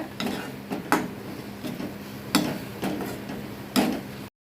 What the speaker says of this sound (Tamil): அடுப்பை சிம்மில் வச்சுட்டு நல்லா வதக்கி விட்டுருங்க